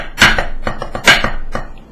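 A drum plays two beats of a rhythm, close and loud: two strong accented hits about a second apart, with lighter quick strokes between and after them, and no voices.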